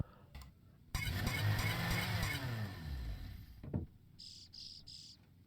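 A small bird in the point-and-click game Deponia chirps in a burst of rapid tweets over a rushing ambient wash, followed by a few quick high chirps once the background falls quiet.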